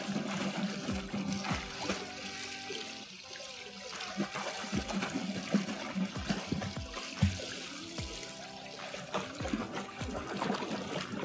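Water sloshing and splashing from a swimmer kicking in a pool, a steady churning wash with repeated splashy bursts and no talking.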